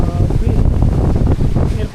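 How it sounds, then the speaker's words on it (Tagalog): Strong storm wind gusts at the coast as whitecapped waves roll in, a loud continuous roar with buffeting on the microphone. "Ang hangin tapos yung alon namumuti doon no."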